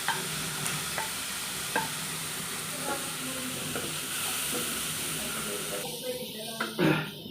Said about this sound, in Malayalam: ജസ്റ്റ് ഒന്ന് വഴറ്റിയെടുക്കുക അതിൻ്റെ ഒപ്പം ഇഞ്ചി പച്ചമുളകും വെളുത്തുള്ളി